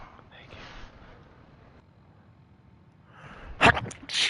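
A single sharp sneeze near the end, loud and close after a stretch of quiet breathing and low talk, with a second burst of sound right after.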